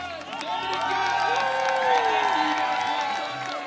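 A crowd at a wakeboard big air final prize giving in Munich cheers and whoops steadily for the podium riders, a loud, sustained roar with voices calling over it.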